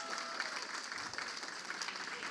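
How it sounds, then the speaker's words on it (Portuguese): A church congregation at a family worship service applauds a speaker's mother, a soft, distant and fairly even patter of many hands, with faint voices mixed in. "Você pode dar uma salva de palmas para ela?"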